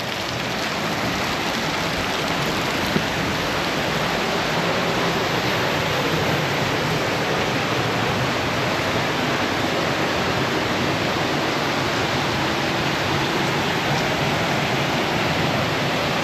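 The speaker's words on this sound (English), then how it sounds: "Thought there might be a waterfall, but it's just really intense water." Intense rushing water roars steadily inside a cave at Carter Caves State Park, a loud, dense, unbroken wash of noise with no pauses for the whole stretch.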